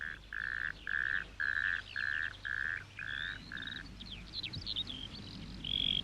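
A natterjack toad in coastal dunes gives a loud rolling churring call in a regular series of about seven pulses, followed by bird chirps and twittering in the background.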